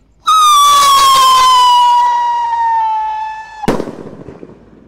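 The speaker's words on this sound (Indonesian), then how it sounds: "Roket kembang yang warna biru kita nyalakan. Sudah menyala. Kita lihat guys, siap meluncur." A blue sky rocket firework launches with a loud, piercing whistle that slowly falls in pitch over about three seconds, then ends in a sharp pop and crackle as it bursts.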